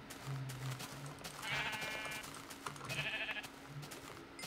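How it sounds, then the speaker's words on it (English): Black sheep in the video game Minecraft bleat in two separate wavering cries, faint to moderate, over a low background hum and a soft repeating tone. "Wow, there's a lot of black sheep."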